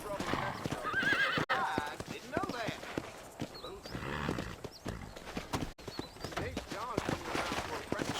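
Horse hooves clip-clop steadily at close range while a horse whinnies and snorts in a video game, with voices talking over the hoofbeats.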